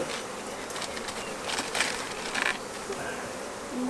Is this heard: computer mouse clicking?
no